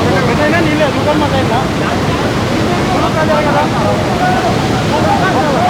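Water released through the opened gates of the Chagallu dam into the Penna river roars as a steady, loud broadband rush that fills the whole clip, with voices faintly mixed in.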